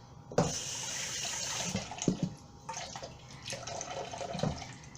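Water runs from a tap while green bananas are rinsed under it, with splashes and clatters from handling in a sink nearby.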